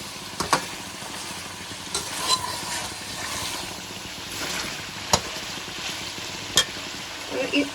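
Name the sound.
ginger garlic frying with meat in a pan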